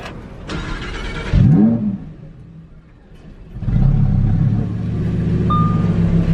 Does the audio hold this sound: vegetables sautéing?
no